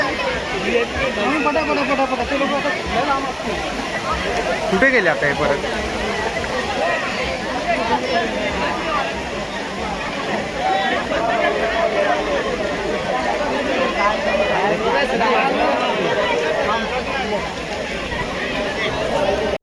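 A dense crowd packs the darshan queue at Ekvira temple near Lonavala, giving off a steady, close hubbub of chatter and shuffling, while a nearby voice speaks over the babble.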